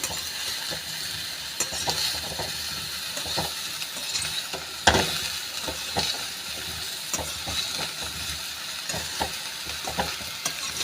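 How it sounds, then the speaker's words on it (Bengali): Cauliflower and potatoes sizzle steadily in a hot pan while a utensil scrapes and stirs in repeated short strokes, close and moderately loud, with no talking. "এবারে সবগুলো ভালো করে সুন্দর করে নাড়িয়ে নিচ্ছি।"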